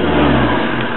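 A Ford Transit Mk 6 van's diesel engine revs up loudly, a rough rising roar that holds strong and then eases slightly near the end.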